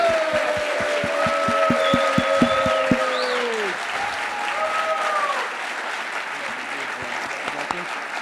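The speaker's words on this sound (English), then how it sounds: "Join me with the loudest Lancaster round of applause you could possibly come up with for my friend" A large audience at a recovery-themed event breaks into loud, sustained applause, dense clapping with a few sharp claps up front, holding steady for several seconds under faint tonal background sound.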